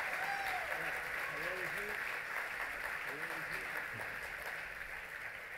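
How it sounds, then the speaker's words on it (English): Sustained applause from a large audience, steady and dense, gradually tapering slightly toward the end, with a voice faintly audible beneath. "Please give them a round of applause"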